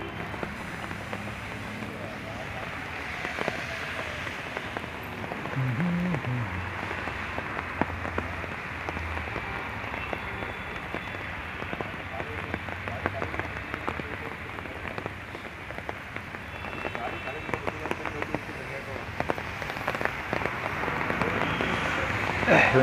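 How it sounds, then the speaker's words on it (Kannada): Steady rain patters on surfaces around a roadside stop, a continuous hiss with scattered drops, moderately loud, with people talking over it at times. "ಮಳೆ ನೋಡಿ, ಮಳೆ"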